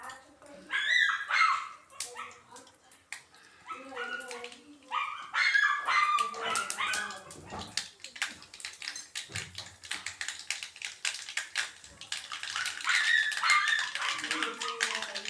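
A dog barks in short, sharp bursts, three times, in a home kitchen where mustard seeds crackle in a hot pan during the cooking of Kerala cheera thoran, with steady tapping and popping between the barks.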